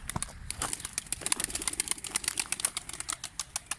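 A pigeon flaps its wings in quick, uneven bursts close by, with soft chirps and coos mixed in.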